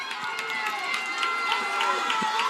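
A football stadium crowd cheers and roars after a big gain, a steady wash of many voices that stays loud and sustained throughout, with no clear pause.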